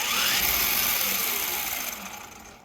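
An Ozito 18V cordless angle grinder runs loudly close by with a steady high-pitched motor whine. The whine begins to wind down and fade toward the end.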